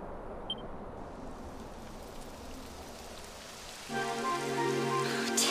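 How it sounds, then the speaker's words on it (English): Video game rain in Dragon Quest XI, a soft continuous patter building gradually, then joined partway through by a sustained tonal musical layer. "It would have to go and start raining, wouldn't it?"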